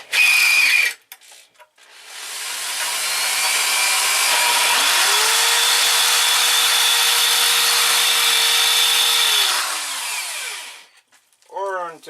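A power drill bores into soft hot rolled steel, a sustained high whine of about eight seconds with short bursts before it and a rising spin-up at the end, loud and close.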